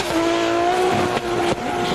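A drift car at a Drift Kings Asia round in Malaysia holds second gear, its loud, strained engine note droning close and steady with two brief dips as it slides.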